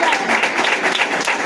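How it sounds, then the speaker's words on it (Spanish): A church congregation claps during a Spanish-language worship service, a brief, dense, steady burst of applause heard at close range. "Demos fuerte aplauso al Señor."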